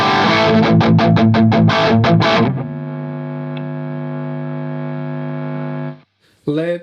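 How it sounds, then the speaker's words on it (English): An electric guitar played through the distortion section of a Nux Cerberus pedal, loud and close: a run of rapid chugged chords, then a long sustained distorted chord ringing out before a short burst of fresh strumming. "Let's move on to the distortion section"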